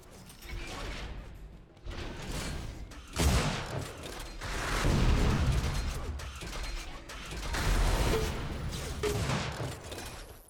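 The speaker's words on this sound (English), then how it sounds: "the rocket snipe combo by Tamerlane" Rapid rocket launcher blasts and sniper rifle shots in a competitive Unreal Tournament match, a dense burst of loud weapon fire and mechanical clatter with several sharp impacts rising and falling over about ten seconds, no voices.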